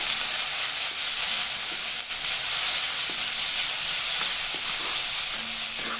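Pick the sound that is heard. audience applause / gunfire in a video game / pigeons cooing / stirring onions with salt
stirring onions with salt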